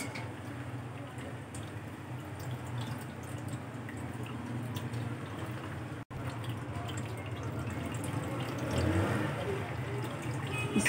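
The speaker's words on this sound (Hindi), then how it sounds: "इसी तरह हम आस्ते आस्ते इसका सारा पानी निकाल लेंगे।" Steady trickling and dripping of water draining from freshly made paneer, close by, continuous under a low background hum, with a brief cut midway.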